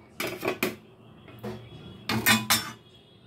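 Boiled fish roe is moved into a bowl with a utensil, making a few sharp metallic clinks and scrapes in short clusters, close by and fairly quiet.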